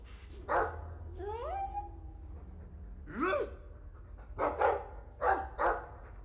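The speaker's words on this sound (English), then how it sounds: "I like the doggy." Several short cartoonish dog barks and yelps in bursts, with a rising whistle-like squeal, over a low steady hum of game music.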